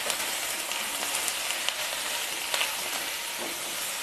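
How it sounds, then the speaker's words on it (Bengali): Potatoes and eggplant sautéing in a pan with salt and chili powder, a steady close sizzle and hiss with occasional light scraping from stirring. "লবণ আর লঙ্কা গুঁড়ো দিয়ে আলু আর বেগুন আমি খুব ভালোভাবে কষিয়ে নিয়েছি"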